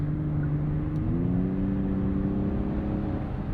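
A 2024 Genesis G90 downshifts and accelerates to pass in rush-hour traffic, its engine note climbing smoothly and steadily under a constant interior road hum, heard from inside the cabin.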